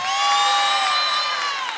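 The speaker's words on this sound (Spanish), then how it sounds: "El aplauso fuerte para la payasita" A crowd of high-pitched voices cheers and whoops together in a loud, sustained shout at a Halloween clown show.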